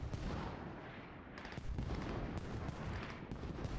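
Mortar and artillery fire in the military shooter Squad, a dense rumble of booming impacts and scattered sharp shots, some nearer and some distant, under constant battlefield noise.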